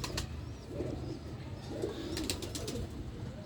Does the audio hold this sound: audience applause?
no